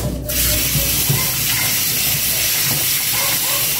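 Slices of yellowfin tuna fry in hot oil, giving a loud, steady hiss and crackling sizzle close by that continues throughout.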